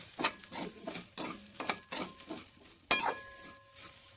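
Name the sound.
frying spices with potatoes, chilli and onion in pan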